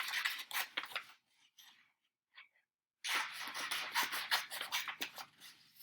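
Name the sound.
scissors cutting top page of paper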